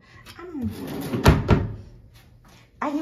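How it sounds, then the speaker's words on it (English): Drawers in a hotel room slide open and shut with a couple of close wooden thunks and knocks in a short burst, followed by quieter rustling and one more bump at the end. "And then drawers."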